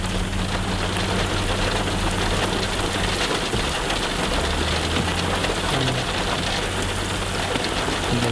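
Steady heavy rain pours down near a site where bulldozers and dump trucks work, a dense continuous hiss with a low engine rumble underneath, loud and unbroken throughout.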